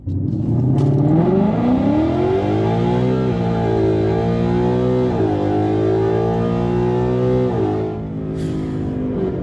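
A 2018 Mustang GT V8 with a full Corsa exhaust and headers pulls hard, its engine note climbing steadily through gear changes. The exhaust sounds loud, close and continuous, with no talk over it.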